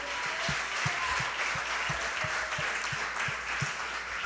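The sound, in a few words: church congregation applauding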